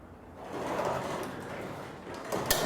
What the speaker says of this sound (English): you're going to want to pull your garage door back to the lock itself